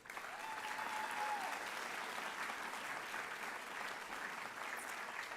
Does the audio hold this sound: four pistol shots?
no